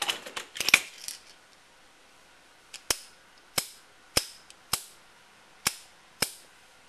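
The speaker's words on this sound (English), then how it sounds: "Nice quick break. Smooth trigger pull." An AR-15 rifle's trigger dry-fired repeatedly after a trigger job, giving about seven sharp, crisp metallic clicks spaced roughly half a second to a second apart, close and loud, following some brief handling rattle at the start.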